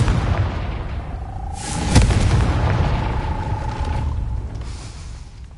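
A Confringo fire-blast spell explodes in Hogwarts Legacy: a sharp, loud burst hits near the start of a broad rumbling game ambience, with a thin tonal hum sustained on either side.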